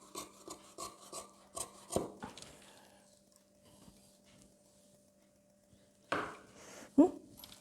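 Scissors cut fabric for the back neck of a boys' jacket, a close, quiet run of evenly spaced snips followed by a pause and a few more cuts and rustles.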